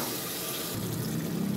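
Water pours into a pan on the stove holding leftover tomato sauce and oregano, a steady close splashing rush with no voices.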